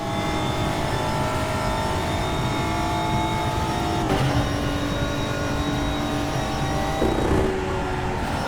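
A GT4/TCR racing car engine at Spa in the RaceRoom sim holds a steady, loud drone with sustained tonal harmonics for the whole stretch, shifting pitch slightly twice as another car runs close alongside.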